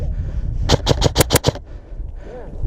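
Airsoft guns fire a quick burst of about six sharp, close cracks in the middle of an outdoor airsoft game, over low background rumble.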